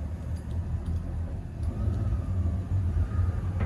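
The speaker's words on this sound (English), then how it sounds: "So you have to press this button and this button at the same time to rev up a wee fraction." Boat engine on a Maxum 2400 SC3 cuddy cruiser rumbles low and steady at close range, a constant throbbing drone with a slight rise toward the end.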